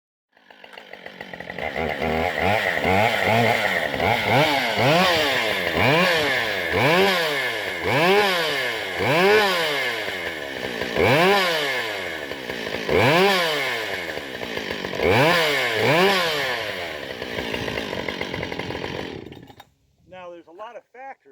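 A Husqvarna 565 chainsaw runs loud and close for about nineteen seconds, its engine repeatedly revving up and easing back in steady surges before cutting off near the end.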